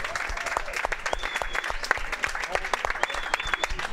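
Sustained applause for the winning team of a kebab-themed quiz show, a dense wash of clapping from a studio audience that runs steadily throughout, with some voices mixed in.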